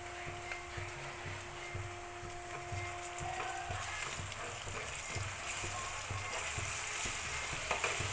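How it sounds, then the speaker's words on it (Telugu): Onions frying with ginger garlic paste in a pan for chicken fry, a steady soft sizzle with faint rhythmic stirring, low and continuous without speech. "ఇది పచ్చివాసన పోయే వరకు వేయించుకోవాలి."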